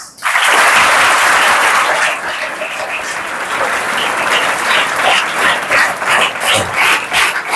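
Loud, sustained applause for students of the KGBV girls' school in Veldurthi, Kurnool district, celebrating their intermediate exam results. Dense clapping fills the room throughout without pause.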